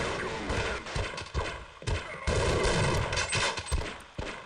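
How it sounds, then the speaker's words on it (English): Shotgun fire in Half-Life, a rapid series of heavy blasts with booming low thumps and clattering tails, loud and close over ongoing game noise with a cluttered background. "I'm gonna use the shotgun on someone"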